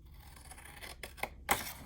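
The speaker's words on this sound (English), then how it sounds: "now we're gonna just cut this little tiny rectangle on the bottom" Scissors snipping through a milk carton in a few short crisp cuts, growing slightly louder toward the end, close by in a quiet room.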